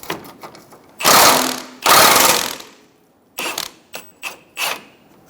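Socket wrench on a front subframe bracket bolt of a 2003-2007 Honda Accord, two loud sustained bursts of ratcheting and grinding, then a few shorter clicking bursts, close and without speech.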